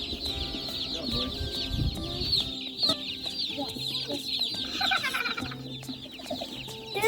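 Chickens cluck and squawk close by as they are handled and lifted on a farm, with a busy, continuous flutter of calls and some low handling noise throughout.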